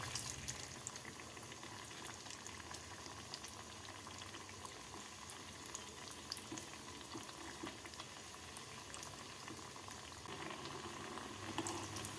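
Sugar syrup boils steadily in a pan while being reheated for rice-flour and egg pitha, giving a continuous bubbling hiss heard alone at close range throughout.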